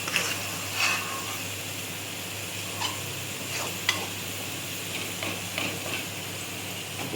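Dried lentils (dal) are scraped and stirred in a wok, giving a faint steady hiss broken by occasional light scrapes and clicks of the utensil.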